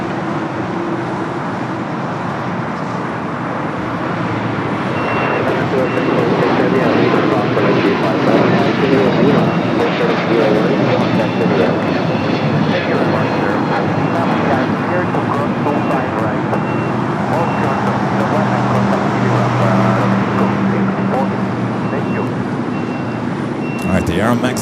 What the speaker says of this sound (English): The Aero Mexico Dreamliner now going to cross over 25 at right, head up to the north side.